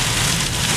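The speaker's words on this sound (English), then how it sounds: "I have now gotten into a squall. Very low visibility, very heavy rain." Heavy rain pours down in a tropical storm squall with gusty winds on the Florida coast, a dense, loud, unbroken hiss across one short burst.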